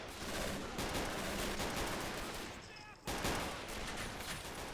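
Dense light machine gun fire in the WW2 strategy game Men of War Assault Squad 2, Battle of Berlin street combat: continuous overlapping bursts and bullet impacts, loud and close, with a brief lull near the end before firing resumes.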